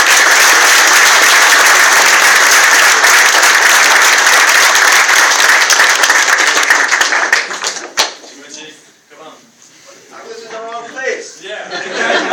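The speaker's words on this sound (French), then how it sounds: "vous pouvez l'applaudir" Loud, steady applause from a convention audience welcoming a guest, sustained for about eight seconds before fading into scattered claps, chuckles and murmuring crowd voices.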